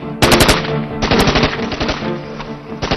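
Soldiers' automatic weapons fire during target practice near the Line of Control, loud, close rapid bursts of shots followed by a longer rattling volley, with no speech.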